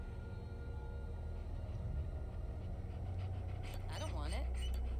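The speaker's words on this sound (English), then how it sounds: "I found the poor pup whimpering alone in a house" A puppy in the dark video game Hell Is Us pants softly and lets out a few rising, high-pitched whimpers near the end, over a low steady rumble of background ambience.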